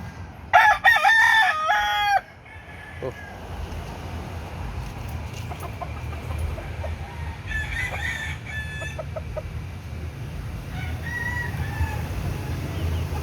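A loud rooster crow bursts out close by, then several hens cluck and cackle intermittently at moderate distance over a steady low rumble.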